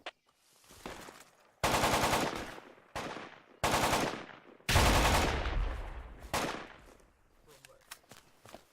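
Bursts of automatic gunfire in Project Reality military shooter game, several loud sustained volleys separated by short pauses, a voice briefly audible between shots.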